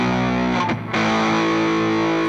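Distorted electric guitar run through a drive preset on a Valeton GP5 multi-effects unit, loud sustained chords with a brief cut-out near the start before ringing on.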